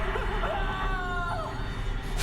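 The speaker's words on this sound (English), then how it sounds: "Wilhelm scream." A Wilhelm scream rings out in Resident Evil 4's chainsaw demo, a short wavering cry over steady game background noise.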